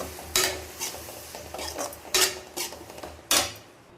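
Boiled bottle gourd being stirred into masala in a pan: a few loud, spaced scrapes of a spoon against the metal over a soft sizzle, close up and without speech.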